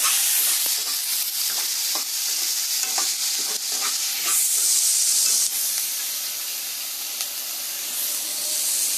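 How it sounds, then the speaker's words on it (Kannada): Salted onions fry in a pan for onion chutney, giving off a dense, continuous sizzle and hiss broken by the scrape of stirring, close and loud with no talking. "ಬೇಗ ಫ್ರೈ ಆಗುತ್ತೆ ಈರುಳ್ಳಿ."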